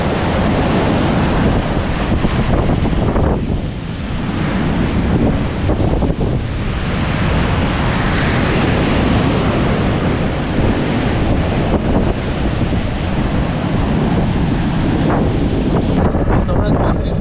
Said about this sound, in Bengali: সমুদ্রের ঢেউ, সমুদ্র বিশাল উত্তাল